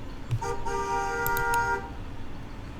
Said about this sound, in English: in New York, people are supposed to get tickets for honking their horns unnecessarily